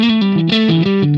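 Distorted electric guitar through a Marshall JCM800 amp model on a Line 6 Helix with the master volume raised, playing loud, saturated sustained notes in a quick changing sequence, alone with no talk.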